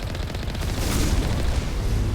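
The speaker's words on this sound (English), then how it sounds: "let's let the missiles and stuff fly" Missiles exploding in a space combat video game form a brief, dense roar of overlapping blasts and deep rumbling, loud and continuous with no pause.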